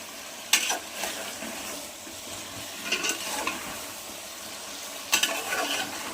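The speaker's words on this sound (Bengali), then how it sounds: "লাল লাল করে তো আমি আলুটা দিয়ে দিলাম দিয়ে একসাথে কষাতে লাগবে তো বন্ধুরা দেখুন আমি একসাথে কষাচ্ছি" Chicken and potatoes are stir-fried together in a pan, giving a low steady sizzle with three clusters of scraping spatula strokes spaced a couple of seconds apart, close and without speech.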